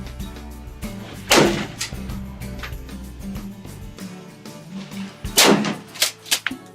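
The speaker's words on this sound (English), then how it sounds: "as soon as you fire off the first shell, right? Pull back. Rack it and it'll reload." Shotgun shells fired at an outdoor rifle and pistol club, two sharp loud blasts a few seconds apart over a steady low rumble and background noise.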